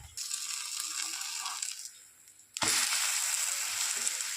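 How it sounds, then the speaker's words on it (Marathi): A wheat flour dosa flipped over on a hot pan, a steady frying sizzle that dips briefly, then a sharp turn followed by a louder, brighter hiss, close up with no voices. "चला हा डोसा आपण पलटी मारूया"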